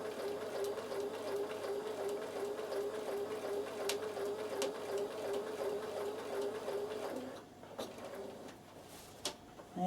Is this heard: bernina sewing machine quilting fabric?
yes